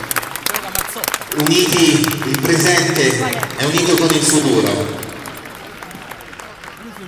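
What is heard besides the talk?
applause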